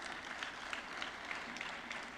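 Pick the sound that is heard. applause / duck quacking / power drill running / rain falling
applause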